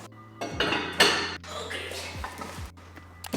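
Metal pans clink and clank repeatedly up close as they are unboxed, with rustling handling noise and a voice speaking softly in the background.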